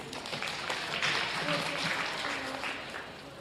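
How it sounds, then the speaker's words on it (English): Audience members at a county fair goat show give a round of applause for a young exhibitor, moderate scattered clapping with voices mixed in, fairly quiet and distant. "Let's give AJ a nice round of applause, please."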